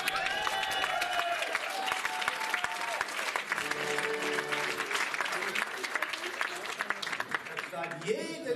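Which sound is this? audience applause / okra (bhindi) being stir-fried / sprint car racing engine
audience applause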